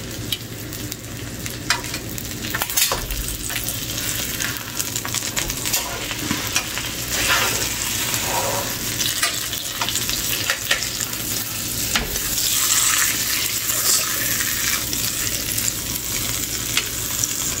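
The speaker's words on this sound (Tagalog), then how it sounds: "Ito pong isa ay piniprito na." Steady loud sizzling of a T-bone steak frying in a hot pan, with occasional scraping and stirring sounds close by.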